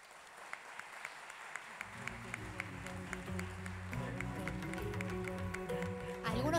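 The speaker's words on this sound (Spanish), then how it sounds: "el fuerte aplauso es para todos" Audience members at the Florencio Awards ceremony for children's theatre clap in a steady rhythmic beat, soon joined by swelling music as the applause grows fuller and louder.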